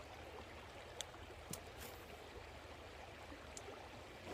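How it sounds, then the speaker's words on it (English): A creek's rough water rushes in a constant broadband roar, with a few faint splashes and clicks breaking through the steady flow. "there is a bit of a rough water here"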